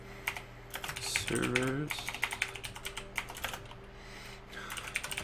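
Rapid clicking keystrokes on a computer keyboard come in short bursts and single taps, close and crisp, while someone speaks briefly in between.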